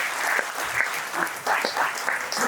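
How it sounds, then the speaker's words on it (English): Audience applause at a Mumbai talk on a US–Iran war and India's choices: steady clapping from a seated crowd, sustained for the whole stretch without speech on top. "big round of applause."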